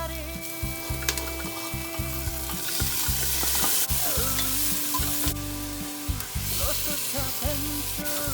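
Meat frying in a little sesame oil in a pan, a close, steady sizzle broken by repeated scraping and stirring clatters throughout, with no talking.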